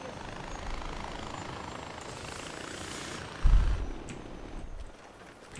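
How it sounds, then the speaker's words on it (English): Helicopter engine in Far Cry 4, a steady rotor-and-engine drone that swells slightly, then a sudden thump and the sound drops away before picking up again at the end, no speech. "I'm gonna move the chopper."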